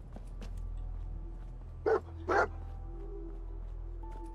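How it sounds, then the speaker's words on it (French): A dog barks twice in the video game Fallout 4, two short, clear woofs close by in quick succession, set over a low ambient hum and soft game sounds. "Pourquoi tu aboies?"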